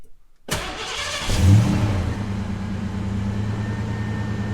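Swapped V8 in a Foxbody Mustang cranks and fires, rising with a brief rev before settling into a steady, rumbling idle, close and loud with no talk.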